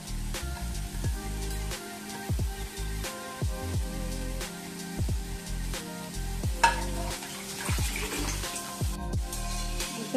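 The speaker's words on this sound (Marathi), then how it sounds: "आता बघा कढई गरम झाली ना आता थोडी भाजून घेऊया आपण" Bharangi greens roasting in a hot kadhai, with a steady sizzle broken by a quick series of sharp stirring scrapes and clinks of the spoon against the pan, close and moderately loud.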